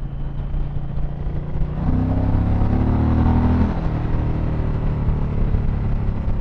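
An Indian Challenger motorcycle engine accelerates while passing another vehicle on the road, a loud throaty rumble that swells in pitch and volume midway, then settles into steady roaring cruise under heavy wind noise.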